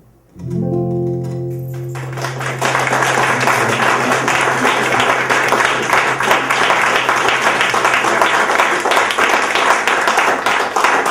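An audience at a book launch bursts into sustained applause after a brief sung or musical tone at the start, with dense clapping holding steady and loud throughout.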